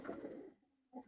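A teddy pigeon on a pigeon farm coos softly, a low murmuring coo, then a short pause and a second faint coo, close by in a quiet setting.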